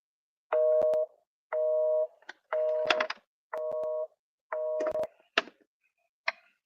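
Phone dialing tones on a call that fails to connect: five steady beeps in an even rhythm, then short broken blips and clicks, close and clear with no voices.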